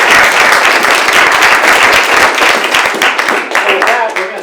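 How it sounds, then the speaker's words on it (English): Loud, dense applause from a panel-event audience welcoming a speaker, sustained and then thinning out toward the end. "Let's give him a round of applause."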